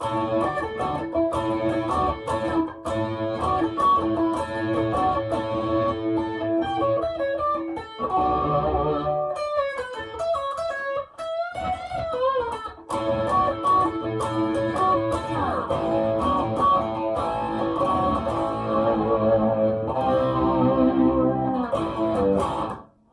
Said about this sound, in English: Now there's phaser, you can hear, if you can hear that in the background